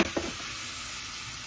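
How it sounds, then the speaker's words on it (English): An egg fries in a hot pan while a can presses it down, giving a soft continuous sizzle with a couple of brief scraping or stirring touches at the start. "You can hear it really, really sizzling when you do that, which is good"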